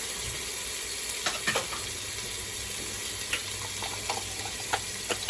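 Garlic frying in a pot on a stove for roast pumpkin and bacon soup, a steady bright sizzle with scattered small pops and crackles. It stays close and fairly quiet, with no voices.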